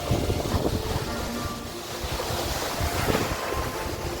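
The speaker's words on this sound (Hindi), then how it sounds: "जब आप झरने के नज़दीक पहुँचते हैं तो झरने की बौछार आपको भिगा देगी" Water roars continuously in a broad, dense rush at the Vasudhara waterfall near Badrinath, with gusty wind buffeting the microphone. The spray sounds close and no one speaks.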